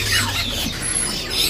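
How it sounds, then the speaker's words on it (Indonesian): A Pakistan myna, sold at a bird kiosk, gives shrill squealing and squawking calls over a steady low background hum for about a second and a half. "Jalak Pakistan."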